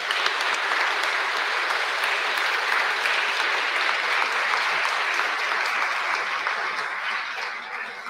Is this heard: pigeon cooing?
no